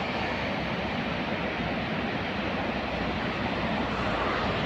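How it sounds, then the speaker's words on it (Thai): A large waterfall in Norway gives a steady, dense roar of falling water that stays even and unbroken, fairly close, with no voices. "นี่จ้าน้ำตกใหญ่อีกแห่งหนึ่งเนาะจ้ะ"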